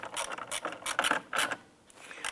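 Ratchet wrench tightening a bolt on a 2005-2007 Ford Five Hundred AC condenser, several quick bursts of close metallic clicking in an uneven rhythm, with short pauses between strokes.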